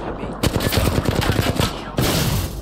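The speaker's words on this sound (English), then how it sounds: "I'm just shooting." Rapid automatic gunfire in Apex Legends, a tight burst of close, loud shots in quick even rhythm lasting over a second, followed by another burst after a short gap.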